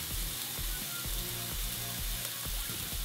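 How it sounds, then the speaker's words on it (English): Onions sizzle in hot coconut oil in a pan, a continuous close crackling hiss with faint rhythmic knocks, as of stirring, beneath it. "We want to hear that sizzle."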